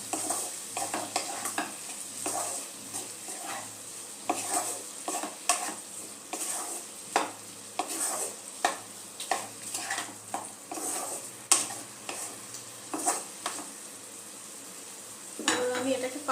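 Bottle gourd and red shrimp curry is stirred in a pan, a quiet continuous sizzle broken by a long run of rhythmic spoon scrapes and clinks against the metal, close by, with no speech.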